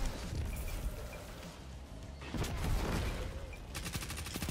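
Rapid bursts of SMG gunfire in a Destiny 2 PvP match, loud and close with a sustained spray of shots, then a crisp stuttering run of rounds near the end, layered over dense game noise.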